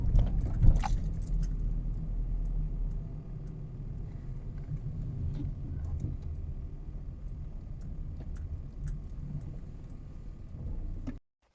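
Keys jangle close by as a driver prepares to start a 2011 Vauxhall Corsa D, a bright metallic rattle at the start followed by low cabin rumble and small handling sounds, with no talk.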